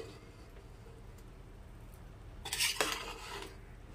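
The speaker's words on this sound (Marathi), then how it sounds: "भात मस्त शिजलाय, असं एकदा परतून घ्यायचं" Field bean pulao rice stirred in a cooker, a metal spoon scraping and clinking against the pot in a short burst near the end, after a quiet stretch of low background hum.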